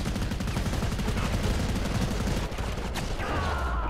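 Rapid pistol gunfire in Modern Combat Versus, a dense stream of sharp shots packed closely together, loud and steady across the whole moment, ending with a brief sweep of other game effects.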